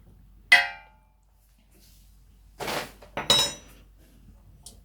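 A spoon clinks sharply against a container, then scrapes and taps as it stirs homemade kojic acid serum ingredients, with short clattering knocks and quiet gaps in between.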